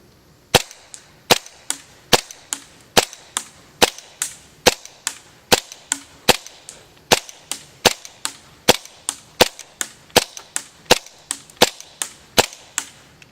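Airsoft M4 rifle firing outdoors at a target 65 feet away: a steady series of about thirty sharp, snappy single shots at roughly even half-second intervals, loud and close with no talk.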